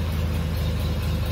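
An old abandoned limousine engine, sitting unused for decades, idles steadily with a low, even rumble and slight chugging throughout, close and alone with no talk.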